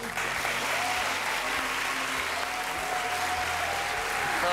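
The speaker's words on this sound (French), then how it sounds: "Ils t'ont plus applaudi que moi" A studio audience applauds Karine Lemarchand as she is called up to join a magician's act, giving dense continuous clapping with a few louder claps for several seconds.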